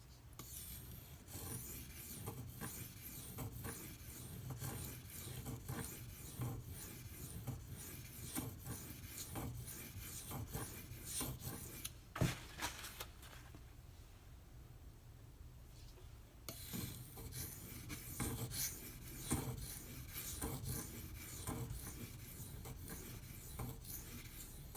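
Spyderco Delica knife with a ZDP-189 steel blade drawn across a sharpening stone, giving faint, repeated rasping strokes with a quieter break partway through.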